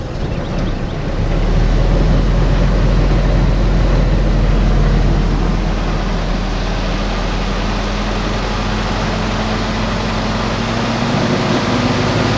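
A Willys CJ2a with its L134 engine runs loud and close, settling from a low idle into a steady rumbling rise as it gets a little gas, with no talking over it.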